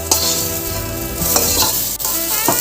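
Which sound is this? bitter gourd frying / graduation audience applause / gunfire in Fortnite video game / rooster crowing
bitter gourd frying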